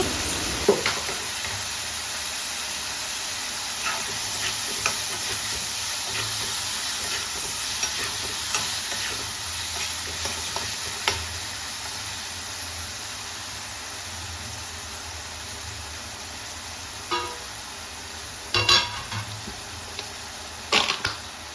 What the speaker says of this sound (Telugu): టమాటో ముక్కలను వేసుకొని కలుపుతూ ఫ్రై చేసుకోవాలి